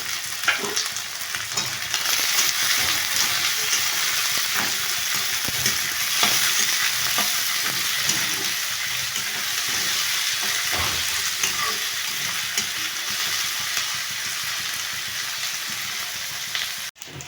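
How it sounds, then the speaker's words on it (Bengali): Chopped onion and garlic fry in a wok while being stirred, a dense steady sizzle with repeated scraping strokes of a spatula throughout, close and loud, ending with a brief clatter. "এবার দেখুন পেঁয়াজগুলো লাল লাল করে ভাজা ভাজা হয়ে গেছে।"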